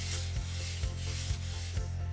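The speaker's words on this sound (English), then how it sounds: "what I'm going to do is to rub the edge just with a bit of wire wool" Wire wool rubbed along a sharp edge of flat-pack furniture wood, a steady abrasive scratching in repeated strokes roughly every half second, close and fairly loud over a low hum.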